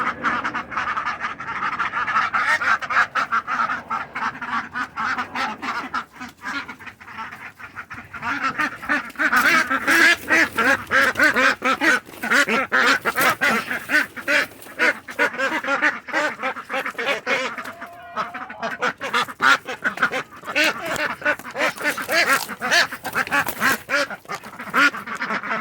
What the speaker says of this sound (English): now I get to chase the ducks back into the run and out of here